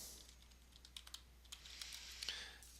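Computer keyboard typing of a search query, a short run of quiet, irregular key clicks with a few sharper taps, close up and alone with no voices.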